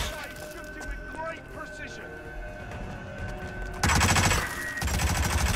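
Gunfire from the PC game Hitman 2016 rattles in rapid bursts, with a loud crack and dense burst near the end, mixed with game sounds and someone talking.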